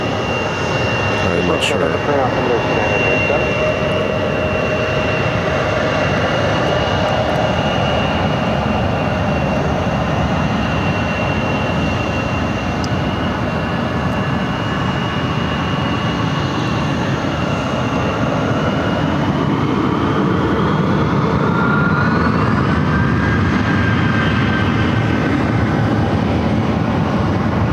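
Airliner on flight 3397 landing at Phoenix airport, a loud, sustained jet engine roar with a whining tone that rises and bends near the end, while people talk over it.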